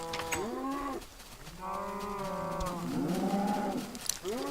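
Cows mooing in a farming video game, several long, drawn-out moos one after another, close and clear, with no talking.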